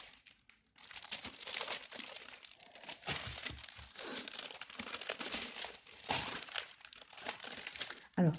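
Plastic laminating sheet offcuts crinkle and crackle as they are handled, a close, continuous rustling with sharper crunches scattered throughout.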